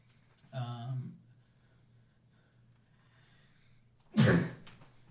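Two sharp nasal bursts separated by a few seconds of near silence, the second louder and more explosive, like a sneeze.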